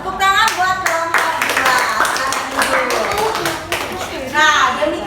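Schoolchildren clap for a group in a classroom during an electric circuits lesson, a dense patter of small hands alongside excited young voices and chatter, rising again near the end.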